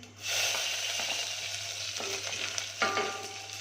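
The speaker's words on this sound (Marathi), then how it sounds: "थोडंसं जिरं आणि आता टाकूया आपण लसूण" Garlic dropped into hot oil with cumin and fenugreek seeds sizzles steadily in a pan, a close, continuous frying hiss with a brief stir partway through and no talking.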